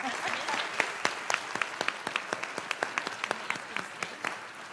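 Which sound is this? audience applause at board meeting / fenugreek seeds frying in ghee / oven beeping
audience applause at board meeting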